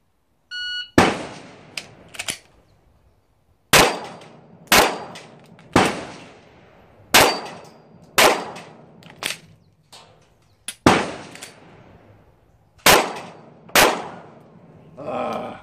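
Around fifteen sharp gunshots ring out during live-fire shooting practice, close and loud, each with a short echoing decay. They come in uneven bursts with pauses between strings of shots.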